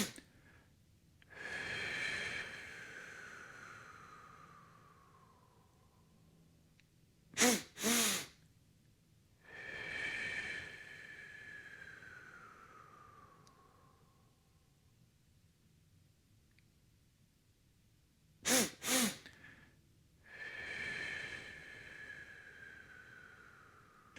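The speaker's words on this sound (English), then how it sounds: "a double inhale and a long and strong exhale" A person does a breathing exercise: a quick double sniff inhale, then a long, strong whooshing exhale that fades away. The cycle repeats three times in a quiet room, with no talking.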